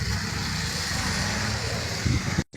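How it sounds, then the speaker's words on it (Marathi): A tourist's car drives past on a road in Taleigao, Goa, a steady low engine and tyre rumble close by that swells briefly near the end before cutting off. "टुरिस्टाची गाडी गेली"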